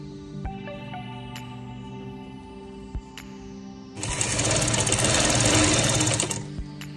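A sewing machine stitches a folded hem on a baby dress, leaving an opening for elastic. A few light clicks and taps come first, then a loud, fast, steady mechanical whirring run lasts about two seconds before stopping.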